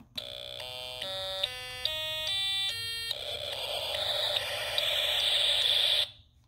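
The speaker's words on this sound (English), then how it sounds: "I'm playing the periodic noise and then a loop playing the white noise" An SN76489 sound generator chip plays periodic noise, stepping through a rising sequence of buzzy pitched notes, then shifts into a sustained bright hiss of white noise, ending abruptly.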